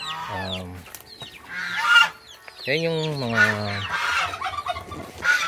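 Free-range hybrid heritage chickens in a backyard cluck and squawk in close, loud bursts, one drawn-out call standing out, while someone talks over them.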